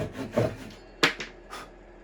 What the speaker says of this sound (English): I ended up doing it with a handsaw and cleaning up with a chisel